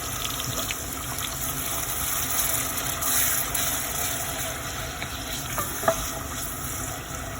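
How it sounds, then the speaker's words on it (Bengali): Onions frying in hot oil for a potato curry, a constant broad hiss and sizzle with faint occasional stirring clicks and one brief louder knock near the end, close and steady without speech. "তো এখন আমি পেঁয়াজ আমি দিলাম, দেখতে পারা।"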